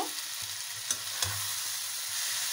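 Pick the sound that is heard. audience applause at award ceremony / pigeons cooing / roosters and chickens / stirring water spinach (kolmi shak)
stirring water spinach (kolmi shak)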